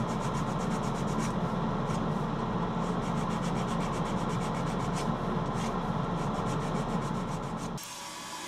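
A turned holly wood candle holder being hand sanded, a steady, close rasping rub with fast rhythmic strokes that runs unbroken for about eight seconds before dropping away to a quieter hum.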